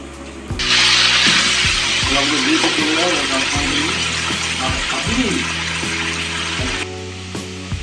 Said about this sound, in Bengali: তেল গরম হয়ে গেছে, এবার আলুটা ভেজে নেবো